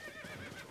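A horse neighs in Zelda: Tears of the Kingdom, giving a short, soft whinny heard alone at low volume.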